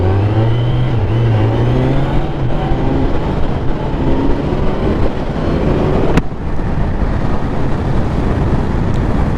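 A new motorcycle engine revs upward toward 4,000 RPM, a loud, continuous engine drone with a slowly climbing pitch, heavily mixed with wind rush and road noise throughout.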